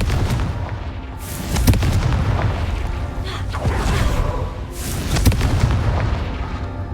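Confringo fire spells burst in Hogwarts Legacy, a series of loud booming blasts at irregular intervals, each with a sharp crack and rolling rumble, over constant low combat noise.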